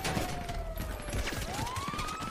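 Gunfire in a GTA roleplay game, scattered shots crackling amid a busy street scene while a siren wails and rises in the background.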